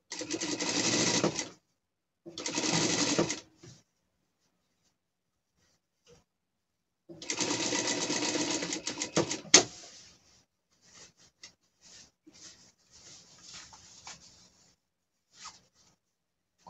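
A sewing machine stitches the seam of a pet costume in short bursts: two brief runs, a pause, then a longer run, followed by quiet handling clicks and fabric rustles.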